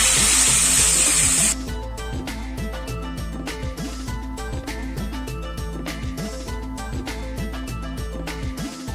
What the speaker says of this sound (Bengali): এবার এর মধ্যে আমি জল অ্যাড করে দেবো।